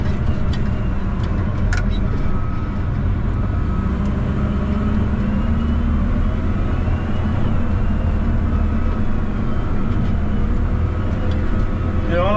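A wheel loader drives over beat-up roads, giving a steady, loud engine drone with rumbling from the rough surface throughout and no talking.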